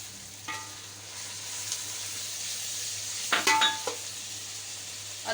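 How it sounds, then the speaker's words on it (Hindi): Minced keema meat hits a pan of softened onions and sizzles steadily in hot oil. A spoon scrapes and clinks against the pan a few times partway through. The sound is fairly quiet and close, and nobody speaks. "अब मैं इसके अंदर डालूंगी कीमा"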